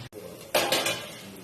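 A lid set onto a cooking pot after the gas is switched off, one sharp metallic clatter followed by a short ringing settle, close and clear.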